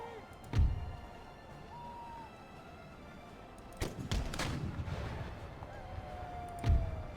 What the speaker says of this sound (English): we will put the artillery back into action